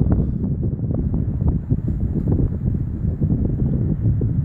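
Gusty wind buffeting a microphone on an open football field, a loud, continuous low roar with rapid fluttering pulses and no talking.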